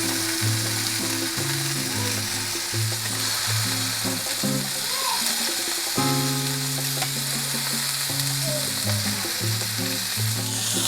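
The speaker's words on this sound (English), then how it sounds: "we're gonna have the steak on both sides for 2 minutes and 30 seconds to try and get a perfect medium rare" Steak sears steadily in a hot pan for a medium-rare finish, giving a close, continuous sizzle and crackle with no talking, while a tonal background hum runs underneath.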